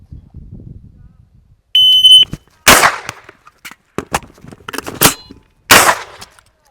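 A shot timer gives a sharp electronic beep, then pistol-caliber carbine shots follow as loud, close, separate cracks at an uneven pace, with no talking.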